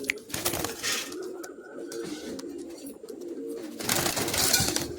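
Oman Teddy pigeons coo repeatedly in a loft, a close, soft rolling cooing that continues throughout with a few rustles and brief background sounds.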